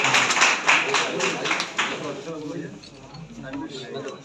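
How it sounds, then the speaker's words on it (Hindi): An audience at a community felicitation ceremony claps in a brief, scattered burst that fades after a couple of seconds, followed by quieter room noise and a distant voice. "मीडिया प्रभारी भाइयों को तो तालियां बजाइए"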